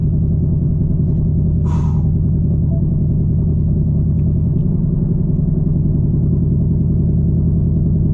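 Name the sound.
car air conditioning fan running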